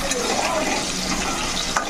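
Potatoes fry in a pan over a gas stove with a dense, continuous sizzle and crackle, loud and close throughout, with occasional stirring scrapes.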